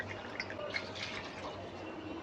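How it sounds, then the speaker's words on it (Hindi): About two cups of water poured into a cooking pan while making black pepper chicken, a steady close splashing pour alone, with no talking. "2 कप पानी डालेंगे"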